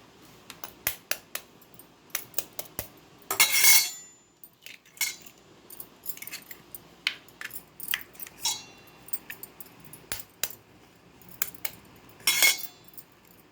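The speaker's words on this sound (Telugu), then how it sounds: "నాలుగు గుడ్లు కొట్టి వేసుకుంటున్నాను" Four eggs beaten in a bowl, heard as sharp, irregular clinks and taps of metal against the dish with a few longer bursts of rapid whisking, close and quiet, with no voices.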